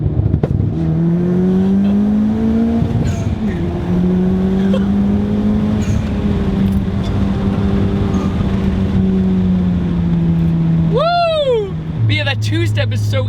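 A Honda Civic Type R with full bolt-ons and aftermarket exhaust holds a droning two-step launch limiter, the engine note wavering in a steady buzz before a sharp rising rev burst near the end, with people talking.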